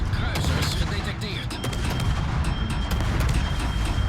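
Warship guns boom in a naval combat game at long range, with repeated heavy shots over a constant loud battle din while someone talks throughout.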